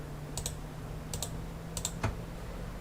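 A computer keyboard being pressed in a few quick paired clicks, spaced roughly evenly apart, with one sharper tap near the end, close and fairly quiet over a low steady hum, with no talking.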